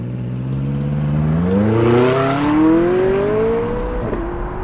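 McLaren 675LT MSO Carbon Series sports car driving by, its engine note rising steadily in pitch as it accelerates, swelling loud near the middle before settling, heard alone.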